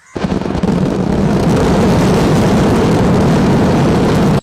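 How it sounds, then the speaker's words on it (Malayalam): A festival fireworks display in Kerala erupts as a continuous, very loud roaring barrage of overlapping blasts that holds steady for several seconds before cutting off abruptly. "ആകാശച്ചെരുവിൽ വിസ്മയം തീർക്കുന്ന അതിഗംഭീര വെടിക്കെട്ടും."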